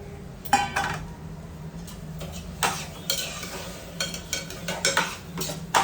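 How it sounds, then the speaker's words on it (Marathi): Rice stirred and sautéed in masala in a pan for masale bhaat, with a spoon clinking and scraping the pan in uneven strokes over a soft sizzle, close and without talk. "आता तांदूळ घातल्यानंतर 2 मिनिटं आपल्याला परतून घ्यायचे मसाल्यामध्ये."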